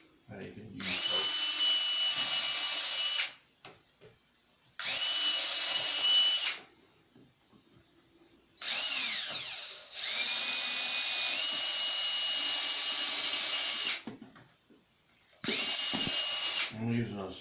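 Power drill boring bolt holes with a small bit into the backing of an eagle piece: five loud, close, steady whines of a few seconds each, separated by brief silences, with the pitch shifting as the motor loads and spins down.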